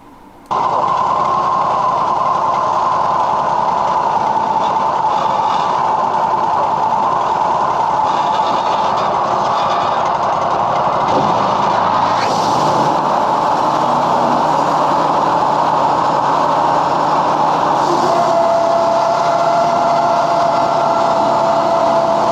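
Wood-Mizer sawmill with its engine running as the blade cuts down the middle of a frozen hedge log, a loud continuous mechanical drone and whine that holds steady, shifting pitch slightly partway through the cut.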